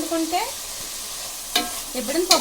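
Potato pieces frying in a pan and being stirred, a moderate sizzle with a few scraping strokes of a spoon near the start and end, no talking.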